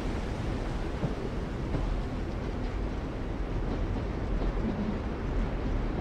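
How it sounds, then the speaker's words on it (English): A train rolls along rails in The Walking Dead video game, a steady, dense rumble with rattling that holds at an even level throughout, with no talking. "Am I on a train?"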